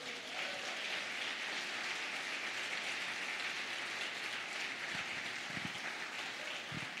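A church congregation applauds during a worship service, a steady, faint wash of many hands clapping together, heard from a distance without any voices over it.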